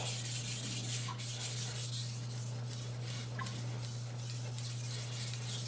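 Steady rubbing and scraping of a knife blade on a sharpener while the burr is worked back and forth from side to side, faint and continuous over a constant low electrical hum.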